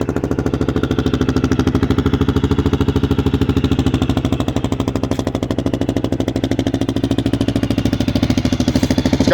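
Close up, a warm 2022 Kawasaki KLR650 fitted with a DG exhaust idles in a loud, regular pulsing thump that holds steady throughout, with no talking over it.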